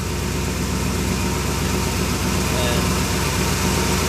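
A small engine runs roughly just after a carburetor was installed, a dense steady low rumble with an uneven sputtering pulse throughout, close and loud, with a brief spoken word over it.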